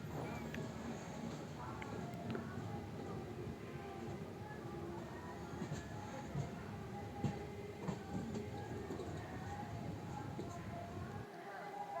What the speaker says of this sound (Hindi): यहाँ पर फिरोजपुर रामेश्वरम में हमसफ़र एक्सप्रेस का अराइवल होने जा रहा है।